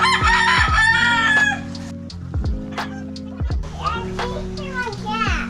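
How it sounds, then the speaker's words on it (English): A large rooster crows loudly nearby on a provincial morning in Makato, Aklan, its long drawn-out calls repeating over a layered chorus of other fowl and distant children's voices. "Check out that chicken."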